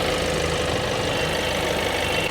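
A Kia Carens 1.5 litre diesel engine idles steadily at close range during a pre-delivery inspection, a dense, even clattering rumble with no voices.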